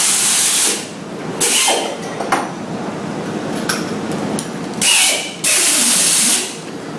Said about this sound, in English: A bigger hole saw.